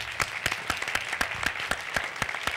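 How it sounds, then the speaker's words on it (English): Steady applause from an audience at a documentary Q&A session, dense clapping with a few sharper claps standing out, continuous throughout. "I think we should give a round of applause"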